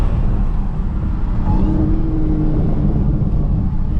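A tuned Dodge SRT Hellcat Charger engine drones loud and steady from inside the car during a drift drive, with no distinct exhaust pops standing out.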